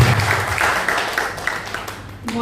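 Audience applause in a hall during a Hindi shayari and parody recital, a steady wash of clapping throughout, loud and close, swelling slightly before fading at the end.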